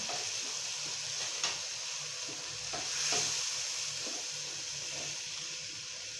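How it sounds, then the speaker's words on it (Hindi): Potato pieces frying in spiced masala in a pan, a steady close sizzle with occasional stirring scrapes and soft clatter, no voices. "टू और 3 मिनट्स के लिए आप लोगों ने इसको इसके अंदर अच्छे से फ्राई करना है आलूओं को भी"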